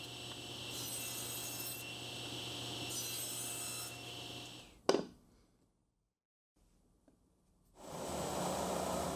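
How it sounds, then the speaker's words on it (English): Abrasive rubbing of a spindle sander rounding the corners of a wooden keepsake box lid, a steady close grinding hiss that breaks off with a sharp knock, falls to near silence, then resumes. "I'm using my spindle sander again to round over the corners of the lid so they match the shape of the box."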